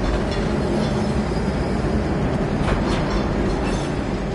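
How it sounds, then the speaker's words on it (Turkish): Train rolling along tracks in Uncharted, a steady dense rumble with faint rhythmic rattling and a brief higher screech near the middle, continuous and fairly loud throughout. "Yine bir tren olayındayız arkadaşlar."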